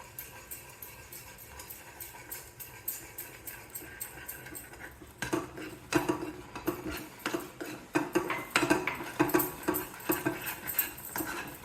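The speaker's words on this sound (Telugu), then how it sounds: "ఇప్పుడు ఇది వేసి కలిపేస్తున్నానండి" A utensil stirs telagapindi curry in a cooking pan, with repeated scraping and clinking strokes that start sparse and grow denser and louder in the second half, close by and without talk.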